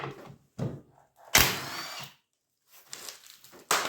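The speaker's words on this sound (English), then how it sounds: "I'm going to use the impact and hopefully just break them" Several short bursts of an impact wrench removing nuts on a 1997 Vmax 500 snowmobile, sharp rattling blasts separated by pauses, close by, with a louder hammering burst near the middle.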